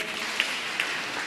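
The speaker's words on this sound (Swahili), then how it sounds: "Tuwapigie makofi." A church congregation at a Kikuyu service applauds with a soft, continuous patter of many hands, fairly distant and even, with two brief sharper accents.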